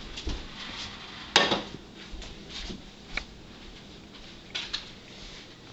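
A hot pot of cornflake and peanut butter mixture is set back down on a stove with one sharp metallic clunk, followed by a few faint, scattered kitchen clatters.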